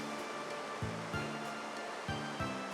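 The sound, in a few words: waterfall ambience in Etrian Odyssey III video game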